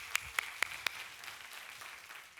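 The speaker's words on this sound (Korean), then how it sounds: "박수 한번 보내드려" Brief, sparse clapping from a small congregation at a Sunday church service, four sharp claps in quick succession, faint and close, fading into quiet room tone.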